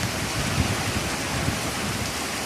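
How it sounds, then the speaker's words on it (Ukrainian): Steady rain falls over a village while strong, gusty wind pushes a dense, even wash of noise, loud and close throughout with small surges and no voices. "Дощ, звісно, йде, але пориви вітру дуже-дуже сягають інколи шаленої швидкості."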